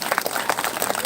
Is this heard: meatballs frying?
no